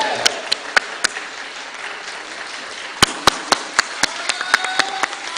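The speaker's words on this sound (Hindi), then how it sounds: "सभी लोग तालियां की गड़गड़ाहट आती रहनी चाहिए।" Sparse, scattered hand claps ring out at a postage stamp release ceremony honouring Dattopant Thengadi, sharp individual claps over a steady hall murmur, growing briefly denser midway.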